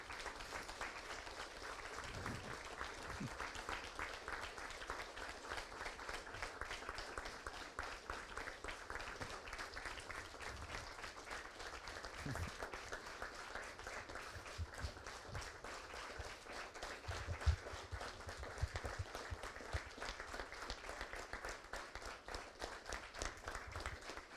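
A book-presentation audience applauds steadily for about twenty-four seconds at an event honouring a young author and her family, dense clapping moderately far off and even in level throughout.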